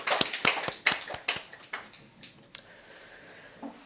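A church congregation at a Korean worship service claps briefly, scattered sharp hand claps that start brisk and thin out into a few faint, isolated claps.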